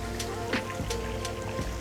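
Rain falls in a garden at the Padma Resort Legian hotel, a soft, continuous patter with scattered louder drops hitting nearby surfaces, fairly faint and without talk.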